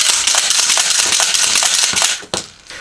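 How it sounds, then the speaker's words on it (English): Shotgun shells pushed two at a time into a tube magazine, producing a rapid run of close, sharp metallic clicks and rattles, loud and continuous with no talking. "So we're pushing 2 at a time in the tube."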